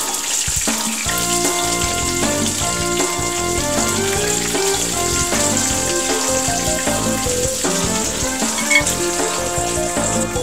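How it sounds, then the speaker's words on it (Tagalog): Horse mackerel fries steadily in oil over low-medium heat, a continuous dense sizzle and crackle holding close and loud from start to finish with no talking. "O habang nagpiprito po tayo"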